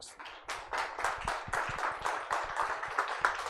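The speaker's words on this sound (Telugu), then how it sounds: "క్లాప్ చేద్దామా?" A church congregation at a Sunday service bursts into clapping, a close, dense run of hand claps that stays loud and even for a few seconds.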